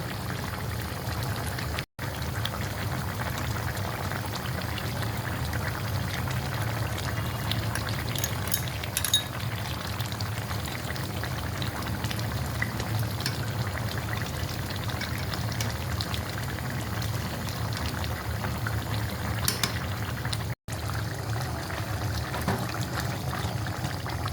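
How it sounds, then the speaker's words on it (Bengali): A rohu fish and tomato curry simmers steadily in a pan, its broth reducing with a continuous close bubbling and soft popping that stays even and unbroken throughout, with no voices. "রুই মাছ টমেটো খুব ভালো করে সিদ্ধ হয়ে গিয়েছে, ঝোলও কমে এসেছে"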